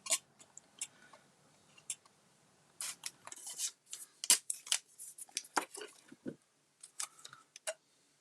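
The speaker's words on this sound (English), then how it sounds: "we're going to cut out our letters" Scissors snip through paper while letters for a Halloween card are cut out, a close series of short, crisp cuts in irregular bursts with brief pauses between them, heard alone without talk.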